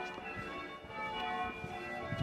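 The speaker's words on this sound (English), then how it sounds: "The bells are ringing by themselves." Church bells ring in a church in Rye, sounding without any ringers present; a sustained wash of overlapping bell tones hums steadily at moderate, somewhat distant volume with low rumbling beneath and no talk.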